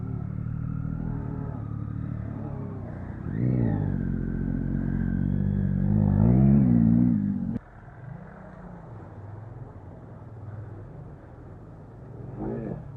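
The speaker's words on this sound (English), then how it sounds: "There's bikes everywhere struggling and getting stuck." Several dirt bikes revving hard and bogging down in deep mud holes, engines surging and straining in uneven bursts, with one sharp drop-off midway; loud and close, with faint voices in the background.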